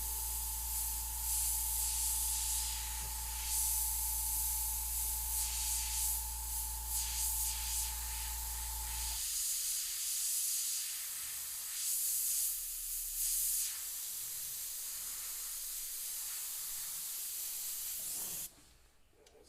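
An airbrush sprays paint in a continuous airy hiss for the whole stretch, with a compressor hum underneath during the first half that then cuts out, leaving the steady spray alone.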